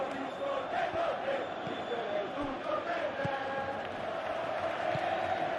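Stadium crowd noise from a PES 2021 football video game during an Inter Milan v Juventus Serie A match, a steady, dense roar of massed voices calling out continuously throughout.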